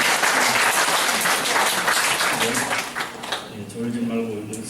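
A congregation at a church retreat applauds the accompanying musicians. Loud, dense clapping for about three seconds thins out as a voice begins speaking over the fading applause.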